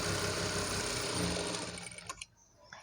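Loud and close, a sewing machine runs steadily while stitching a saree being converted into a long frock, then winds down into a few clicks and fabric handling.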